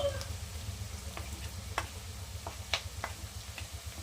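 Onions fry in a pan, with a soft low sizzle and occasional clicks of a utensil stirring, quiet and close, with no talking.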